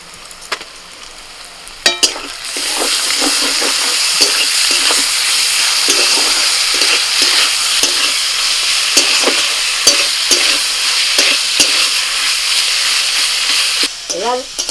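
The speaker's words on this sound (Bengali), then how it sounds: "এবার দিয়ে দিচ্ছি যে চিকেনটা ম্যারিনেট করে রেখেছিলাম সেটা" Marinated chicken dropped into a pan of fried green chillies and onion, a loud close sizzle that jumps up at once and keeps crackling, broken by repeated scrapes and knocks of stirring.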